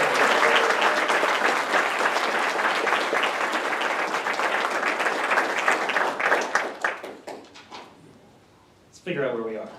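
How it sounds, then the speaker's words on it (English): Loud, sustained applause from an audience at a state governor's service awards ceremony, dense clapping that thins out and fades into scattered claps before a voice begins speaking. "And let's have another round of applause for..."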